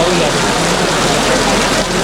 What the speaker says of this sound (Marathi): पाऊस थोडा थोडा येतो